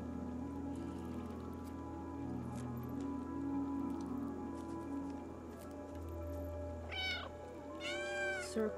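Cat meows from the video game Stray ring out near the end as a couple of quick rising cries over a steady ambient game soundscape with low hums and faint clicks.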